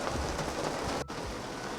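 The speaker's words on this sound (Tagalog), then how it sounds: "Malakas pa rin yung ulan." Heavy rain pours steadily in a flooded city street during Saturday traffic, a dense, loud, continuous wash of hiss with no voices heard.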